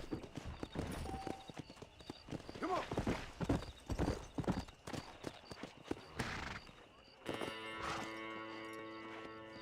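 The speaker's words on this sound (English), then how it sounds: "mas botar meu cavalo ali, né?" Horse hooves clip-clopping in the Red Dead Redemption video game, a series of uneven hoofbeats at moderate distance, joined by a brief whinny-like sound and then a steady tonal game noise near the end, quietly mixed.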